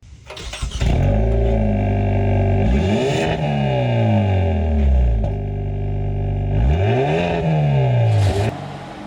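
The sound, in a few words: sports sedan exhaust revving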